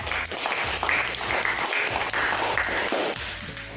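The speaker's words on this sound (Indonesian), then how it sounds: "Kita berikan aplaus juga untuk Novrianda" Applause fills a school economics classroom, a dense, steady wash of many hands clapping together throughout, close and loud, with no speech over it.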